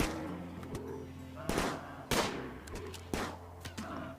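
Gunfire in the modded video game RimWorld, Alpha 16: several sharp, separate shots cracking at irregular intervals over a low background hum, fairly close and punchy, with no talk.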